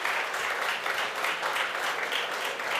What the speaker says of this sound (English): So big applause to that.